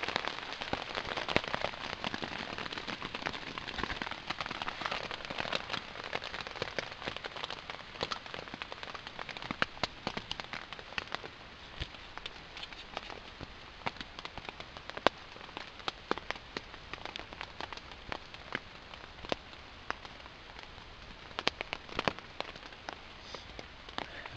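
Night rain falling steadily around 2 a.m. during a bicycle trip near Drezdenko, Poland, a dense, continuous patter of drops tapping close by on a surface, with no talk.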